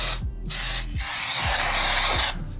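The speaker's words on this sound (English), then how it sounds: "A little bit of good old brake clean." Brake cleaner sprays onto a transmission pan from a 2007 Dodge Ram in loud hissing bursts, with mechanical clicks between the sprays.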